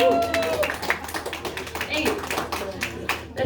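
A comedy show audience at a winery claps steadily throughout, dense and fairly close, with the comedian speaking over the applause.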